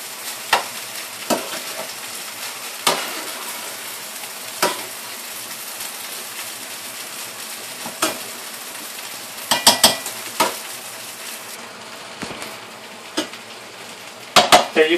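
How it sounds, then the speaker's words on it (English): Rice frying in a pan gives a continuous sizzle as a utensil stirs and flips it, with sharp clicks and scrapes against the pan at irregular intervals, growing busier toward the end. "So we're just going to move it and flip it over."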